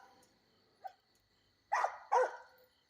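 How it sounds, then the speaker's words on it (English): A dog barks twice in quick succession some distance away, nose to the ground outdoors in a quiet yard, with a faint yip just before and no talking. "He's over there with his nose in the ground, barking."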